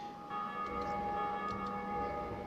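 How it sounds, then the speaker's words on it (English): A deep bell tolls across worlds in the video game Dark Souls, a sustained resonant ring with long humming overtones that hangs steadily over a faint low background. "The bell just rung"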